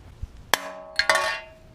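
Hammer blows ring out on metal while knocking a wheel bearing out of a 2006-2012 Toyota Camry or Avalon: a sharp strike, then a pair of close strikes, each leaving a long bright metallic ring that slowly decays.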